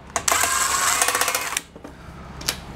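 A screwdriver works screws out of the underside of an Epson P600 printer during a teardown, giving a close, loud whirring burst for about a second and a half, then a few softer clicks.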